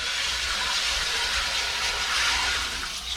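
Hot water poured into a hot cast iron pan gives a steady, loud steaming hiss with a watery rush, continuous throughout with no talking.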